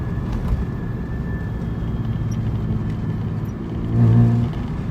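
Straight-piped Nissan 300ZX idling with a low, steady exhaust rumble, then a brief deeper rev swell near the end before settling back to idle.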